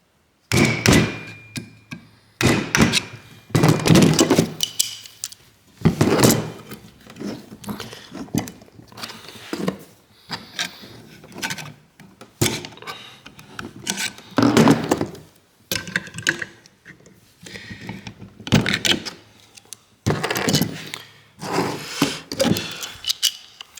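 A knockout hole is punched out of a light switch box, with repeated irregular knocks, cracks and thuds close by, some fumbling and rubbing between them, and no talking.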